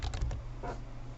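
Keys on a computer keyboard clatter in a quick burst of several taps, then a couple of softer keystrokes follow, close and clear over faint low room hum.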